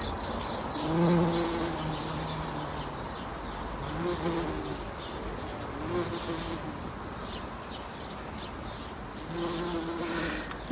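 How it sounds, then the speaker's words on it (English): Bees buzz around unusual flowers in a garden, a close, continuous droning hum with several overlapping insects, joined by birds chirping in the background and occasional soft talk. "the bees busy themselves all day on it."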